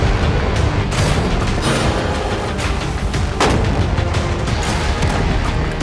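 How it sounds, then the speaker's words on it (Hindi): Heavy shots blast at a shipping container in an outdoor challenge, several loud booming reports landing close together over a constant roaring background. "पहले बाकी शॉट्स फायर कर लेते हैं"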